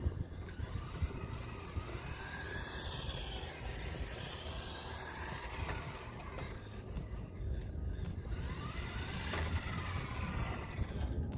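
A UDI RC Breaker 1601 16th-scale drift car running flat out, its small electric motor whining in rising and falling sweeps as it speeds past and away, fairly faint against steady background noise.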